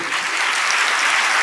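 A congregation at a Telugu sermon claps together in dense, steady applause that sounds loud and close throughout, with no voices over it.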